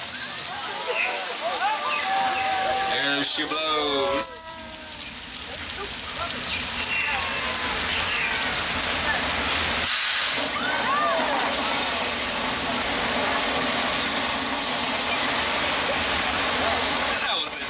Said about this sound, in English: That was our flash flood, one of the oldest effects here on the studio